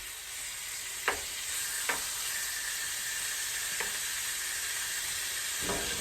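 Garlic frying with meat in a pan, a steady soft sizzle with a few sharp clicks from a wooden spoon stirring and scraping.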